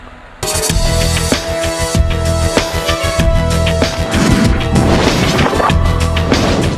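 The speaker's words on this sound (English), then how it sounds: "the Federal Aviation Administration placed plastic explosive in a luggage container made of glare" Plastic explosive detonates inside a luggage container made of GLARE, a glass-reinforced aluminium laminate, in an aviation safety test: a sudden loud blast followed by sustained roaring, crashing debris and repeated heavy impacts with no speech.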